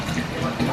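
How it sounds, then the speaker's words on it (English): Tap water runs steadily into a household sink, a continuous close hiss and splash with no pauses over the short stretch. "I've got water running."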